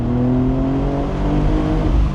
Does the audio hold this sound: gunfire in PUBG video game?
no